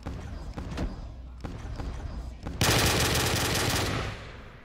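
A ray gun firing at zombies on the Aviam Immortuos zombies map: a few scattered shots and thuds, then a loud, dense burst of rapid fire lasting over a second before fading.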